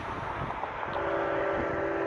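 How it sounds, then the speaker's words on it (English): A BNSF or Union Pacific train rumbles steadily nearby at a railroad crossing on Pepper Drive east of Bakersfield, California, and a sustained horn tone sounds through the second half. "And I hear a train coming."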